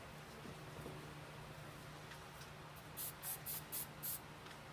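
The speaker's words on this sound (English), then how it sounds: "Now I'm going to spray the rest of this." Face spray being misted on to build a costume beard, five short quick bursts in a row, close and crisp, over a quiet hum of room noise.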